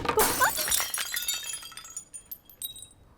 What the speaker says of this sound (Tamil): கண்ணாடியை உடைச்சிட்டியா?